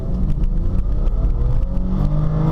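2004 BMW 530i with a straight-six engine accelerating, a loud close engine drone rising steadily in pitch, heard from inside or beside the car with no talking.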